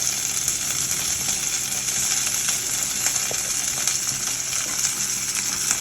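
Onion, tomato and coconut sauté in a hot pan for a Tamil chutney, giving a steady, close, unbroken sizzle and crackle throughout with faint stirring and no talk.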